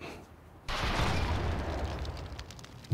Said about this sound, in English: I was literally right next to the explosion.